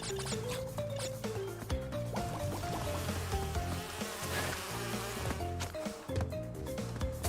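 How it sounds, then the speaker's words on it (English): Angry bees buzz in the video game Crash Bandicoot 2, a swarming drone layered over game music, fairly quiet and continuous with no talking. "we're being chased by angry bees"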